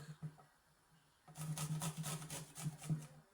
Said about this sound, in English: We ensure that we grate the garlic.